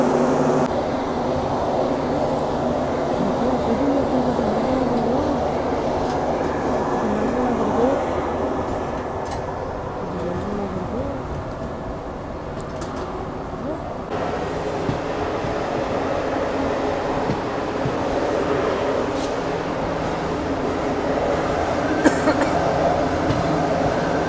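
The Yesvantpur–Secunderabad Garib Rath superfast express, train 12736, pulls into Guntakal railway station with a loud, continuous rumble of rolling wagons close by that shifts in tone partway through.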